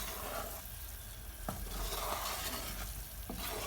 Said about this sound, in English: you can see that's really, really bubbling, that sugar is boiling